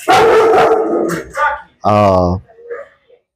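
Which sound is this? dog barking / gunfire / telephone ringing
dog barking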